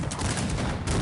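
Cannons fire in a Cossacks 3 battle, a dense rumbling burst of overlapping booms packed into a second of continuous gunfire.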